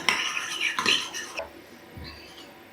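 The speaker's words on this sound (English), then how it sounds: "A little squirt of lemon and a little sprinkle of dill. Just mix them together." A utensil scrapes and clinks against a bowl while lemon juice and dill are mixed into mayonnaise, in a few busy bursts that then fade to quiet.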